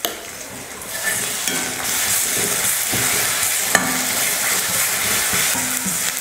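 Ginger garlic paste sizzles and fries with sautéed onions in a pan while a utensil stirs and scrapes, making a steady close crackle with occasional sharp knocks and no voices.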